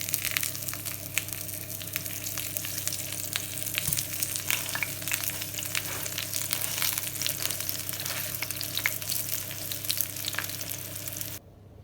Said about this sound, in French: je vais commencer par saisir mes aubergines dans une poêle avec un fond d'huile bien chaude